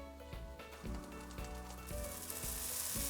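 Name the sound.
kataifi pastry sizzling in a frying pan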